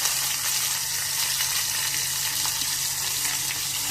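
Curry leaves, green chillies and tomato drop into hot tempering oil for Maharashtrian tur dal amti, giving a steady, loud sizzle and crackle that holds evenly throughout with no talk.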